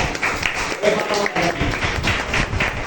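Audience applause for a young girl at a constitution anniversary cluster convention in Chhindwara, a steady spread of clapping from a crowd that runs through the whole span with some voices mixed in.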